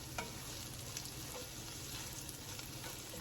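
Keto bacon jam sizzles steadily in a pan with a soft, continuous frying crackle and occasional faint pops, close and even throughout.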